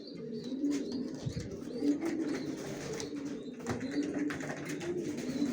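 Racing pigeons in their own loft coo steadily, a low, throaty, overlapping murmur of several birds close by with no one talking.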